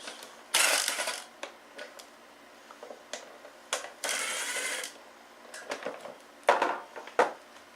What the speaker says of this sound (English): I'm going to grab an 8mm wrench and we'll grab these off real fast